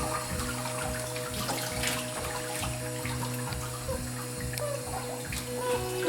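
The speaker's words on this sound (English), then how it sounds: "running water." Water runs steadily from a tap, a continuous close splashing flow with a low rhythmic hum beneath it.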